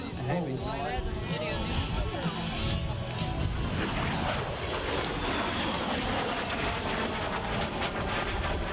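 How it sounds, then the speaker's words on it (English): A T-33 jet at an airshow roars overhead during a double aileron roll, a broad, loud engine rush filling the whole stretch under a commentator's voice. "now to demonstrate the role of the T-33, Greg approaches high and to the right for the double aileron roll"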